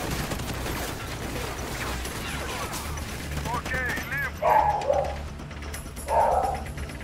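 Gunfire in the video game Call of Duty Ghosts, set in a jungle, rattles in bursts of shots under a player talking, with bird-like calls and two louder bursts late on.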